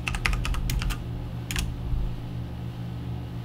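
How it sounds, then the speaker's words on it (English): A username is typed on a computer keyboard in two short bursts of quick, close key clicks over a steady low fan hum, with a pause between the bursts. "here we type in our username"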